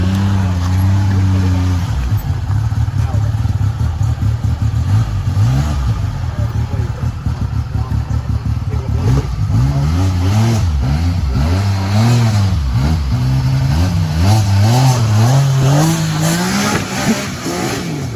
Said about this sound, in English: here comes Josh in the Wildcat